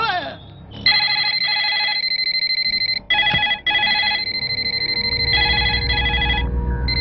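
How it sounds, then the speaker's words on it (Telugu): A telephone rings in a Telugu film scene, its bright electronic trill repeating in close, loud bursts with brief gaps, over a low background rumble. "కోటేశ్వరరావు గారు లిఫ్ట్ చేయండి."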